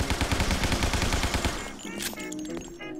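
Rapid automatic gunfire in the video game Guns, Gore & Cannoli, a dense rattling burst for about a second and a half, then scattered fainter shots and clatter.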